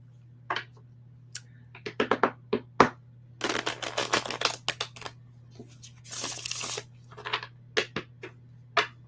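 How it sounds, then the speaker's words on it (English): Tarot cards shuffled in quick riffling bursts and sharp taps, a couple of longer whirring riffles between clicks, close and clear with no talking. "That's a clean shuffle."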